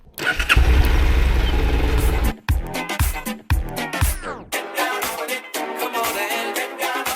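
A motorcycle engine on a road trip fires up with a loud starter burst, then cuts out and restarts in several short bursts before settling into an uneven, fairly quiet idle nearby.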